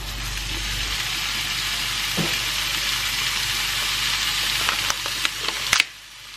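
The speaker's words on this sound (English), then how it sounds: "I'm about to brown up the ground meat and then add some diced onion to it." Partly frozen ground beef browns in a pan on a home stove, a steady loud sizzle and fry running throughout, with a few faint clinks and scrapes near the end before it cuts off.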